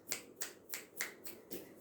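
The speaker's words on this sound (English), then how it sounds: "Snap your fingers if you like it." Fingers snapping six times in an even, moderate rhythm, close and crisp, with no talk.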